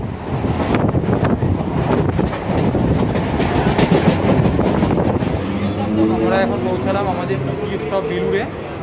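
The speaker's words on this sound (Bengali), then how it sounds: "দেখতে পাচ্ছেন পাশ থেকে একটা ট্রেন হাওড়ার দিকে যাচ্ছে" A local train on the Burdwan–Howrah main line rolls past heading toward Howrah, heard from a neighbouring local train: a loud, steady clickety-clack of wheels over rail joints with heavy wind buffeting throughout.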